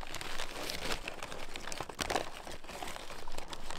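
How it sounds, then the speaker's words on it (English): Paper wrapping crinkles and crunches continuously as fish and chips are unwrapped, close and fairly soft, with no talking over it. "let's unwrap these fish and chips"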